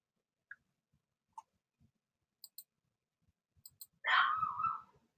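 A small group of yappy dogs lets out a short burst of barking after a few faint, scattered clicks in an otherwise quiet room.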